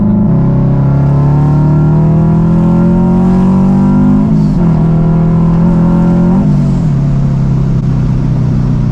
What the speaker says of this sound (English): So literally just for this blow-off valve, that's why I chose the Vortech over all of them.